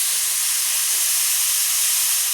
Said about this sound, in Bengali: তো অল্প করেই ভাজাটা করব আমি